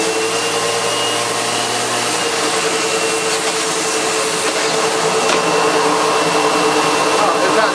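A Sebo Automatic X1.1 upright vacuum cleaner runs continuously with its brush roll spinning, a loud, steady whine and whoosh close by, its tone shifting slightly partway through.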